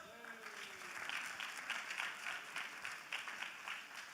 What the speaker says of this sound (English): How about a round of applause for yourselves?